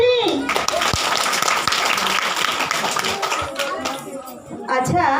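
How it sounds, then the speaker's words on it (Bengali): A group of people clapping loudly together during a music exam on tala, with a dense burst of applause lasting several seconds and voices mixed in. "জোরে হাততালি।"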